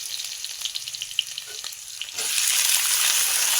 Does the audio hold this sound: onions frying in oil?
yes